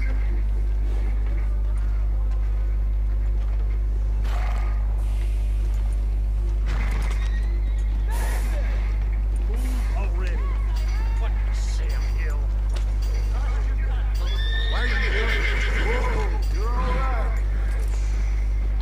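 A horse whinnies and hooves clip-clop in the video game Red Dead Redemption 2, amid game ambience, with someone talking over parts of it.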